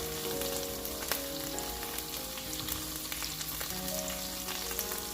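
Potatoes fry alongside beef and garlic in a single pan, giving a steady, close sizzle with crackling pops throughout and no voices.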